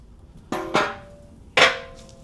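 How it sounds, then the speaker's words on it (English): Two sharp metallic hammer taps on a 2002-2006 MINI Cooper S bumper, a second apart, each ringing briefly with a clear tone before fading. "Tap with a hammer and the bumper should come right off."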